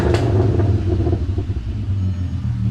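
A tuned VW MK4 GTI 24v VR6 with downpipes and cat delete revs on two-step launch control, a loud, close, steady low rumble that holds throughout with slight fluctuations.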